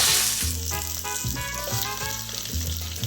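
Onion, tomatillos and garlic cloves hit hot oil in a pan, producing a loud, continuous frying sizzle with rhythmic bursts of crackling and clattering as the ingredients settle and are stirred.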